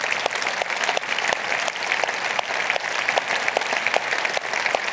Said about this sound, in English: I'd like to recognize and give you a round of applause